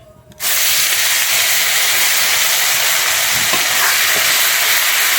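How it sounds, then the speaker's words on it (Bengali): Ground onion paste hits hot oil already fried with dried red chillies and garam masala for a Bengali doi katla fish curry, setting off a sudden, loud, steady hiss that holds evenly to the end. "আমি পেঁয়াজটা কিন্তু খুব ভালোভাবে ভেজে নেবো এখানে"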